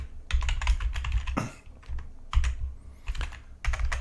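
Typing on a computer keyboard, close and clear, with rapid bursts of key clicks separated by short pauses and a few heavier thumps like the space or enter key.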